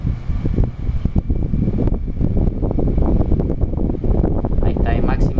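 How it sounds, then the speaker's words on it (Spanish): An LG air conditioner fan runs at maximum speed with a steady whooshing airflow, while a person talks over it throughout. "Ahí está el máximo de ventilador."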